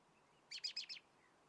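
A short burst of four quick, high bird chirps rises close by and cuts off, with quiet room hiss before and after.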